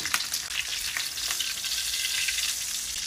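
Pork for humba fries in its own rendered fat, a dense, close crackling sizzle with small popping bursts across a few seconds, no talking.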